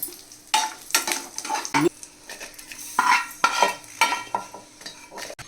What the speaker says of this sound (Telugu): ఇందులో మనం దొండకాయ ఫ్రై చేసుకోవాలి బాగా వేపుకోవాలన్నమాట